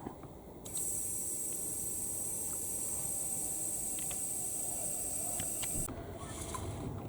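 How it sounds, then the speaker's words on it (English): An airbrush blasts leftover paint out of its cup into a spray pot, making a steady, loud hiss for about five seconds. It starts and stops sharply, with a few faint clicks underneath. "I've got residual paint in the airbrush cup, so now I'm going to remove this"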